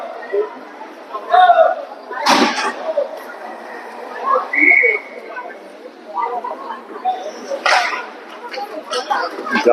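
Ice hockey game at a youth squirt-level district match, with a referee's whistle shrilling briefly among arena chatter, shouts and crowd noise, while an announcer talks throughout.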